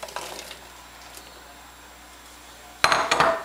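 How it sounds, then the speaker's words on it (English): Chopped onions tip from a dish into a frying pan on a stovetop set to medium heat, with a sudden clatter of utensil against pan and a brief scrape after a quiet stretch. "Turn my stove on to medium heat, and I will add my chopped onions to my fry pan."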